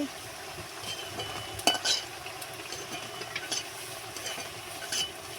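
Flour fritters frying in hot oil as they are lifted out, a soft continuous sizzle with a few scraping clinks of a utensil against the pan, fairly quiet and close.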